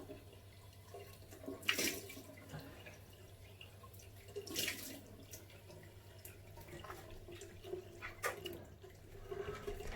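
Water splashes softly onto a face during a rinse after facial shaving, three brief faint bursts over a quiet running-water background.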